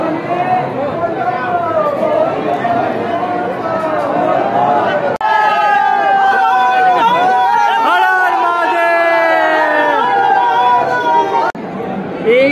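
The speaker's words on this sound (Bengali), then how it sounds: "প্রচুর ভিড় প্রচুর ভিড়" A large crowd of pilgrims waits in a long line behind railings for darshan at a Shiva temple, dense overlapping chatter and voices filling the space continuously at close range.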